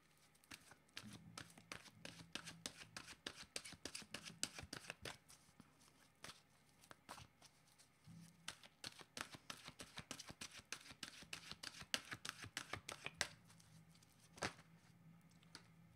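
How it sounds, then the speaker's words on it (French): Oracle cards being shuffled by hand, a long run of rapid, close, papery riffling flicks in steady bursts with a couple of brief pauses, no voices. "je vais demander une carte de mon oracle de l'âme intuitive"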